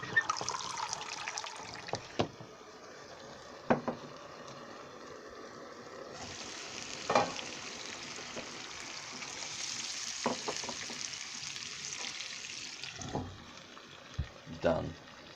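Rice cooks in a covered pot of water, giving off a steady sizzling hiss that swells through the middle stretch, punctuated by occasional clunks and soft handling sounds, with a voice speaking intermittently.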